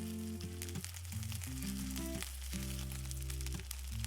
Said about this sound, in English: Then I'm gonna roll each piece a quarter turn and brown the next side.